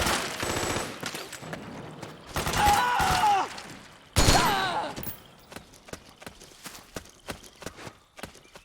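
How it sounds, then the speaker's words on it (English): Machine gun bursts ring out in Metal Gear Solid 4, loud rapid rattling with heavy blasts, followed by a steady run of separate sharp shots that fade in strength. "Suppressing fire!"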